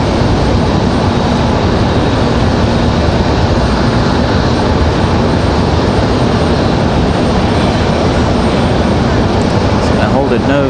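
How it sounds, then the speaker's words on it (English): FedEx ATR turboprop landing at Raleigh-Durham in gusty wind, a loud, continuous engine drone with heavy wind rumble and a voice speaking over it throughout. "It's FedEx ATR handling the wind like a champ."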